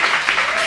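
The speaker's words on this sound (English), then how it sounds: "Clap it up for the women on the panel." A live podcast audience in Miami claps steadily, a brief, even wash of applause with no voices.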